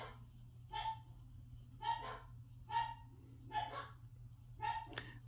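Several dogs bark in the background at a regular pace, about five barks, over a low steady hum.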